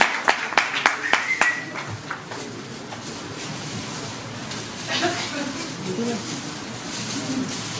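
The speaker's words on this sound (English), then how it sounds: "Let's have a huge round of applause." Scattered audience clapping at a festival announcement event in Mumbai, a handful of sharp claps in the first two seconds that quickly die away, leaving a murmuring room with faint background voices.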